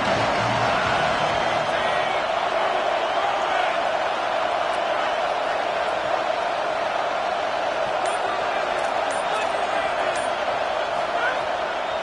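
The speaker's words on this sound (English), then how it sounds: "Decibels rising as the crowd gets behind this defense on 3rd down." A football stadium crowd roars behind the defense on a third down, a loud, dense and steady wall of cheering that holds for the whole stretch with little rise or fall.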